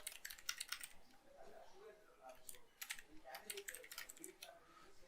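Fingers typing on a computer keyboard, rapid bursts of crisp key clicks close to the microphone with brief pauses between runs, a soft voice talking underneath at times.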